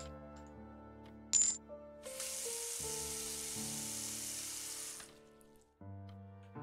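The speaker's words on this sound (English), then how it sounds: "You'd rather use a faucet closer to the container you want to fill?" Water runs steadily from a faucet into a container in a video game, a soft hiss lasting a few seconds between brief clinks and tonal game chimes.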